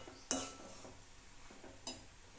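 Carrot halwa being stirred in a pan on a gas stove, soft, close clinks of a spoon against the pan, two sharper scrapes among quieter stirring sounds.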